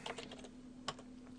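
Soft keystrokes tap on a computer keyboard, a quick burst of clicks followed by a pause and a few more presses, close and quiet over a faint steady hum.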